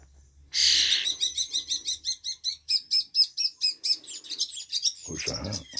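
Small birds give a rapid series of high, squeaky chirps, about a dozen evenly spaced calls in quick rhythm, close and clear, followed by a brief lower sound at the end.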